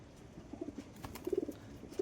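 A male tikki pigeon gives soft, quiet coos in short bursts of a few low notes, faint and close against a hushed background.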